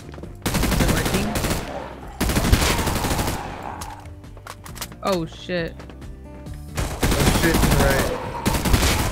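A gun in a video game fires in loud, rapid bursts with sharp mechanical clatter, separated by pauses, while players talk and exclaim between and over the shots.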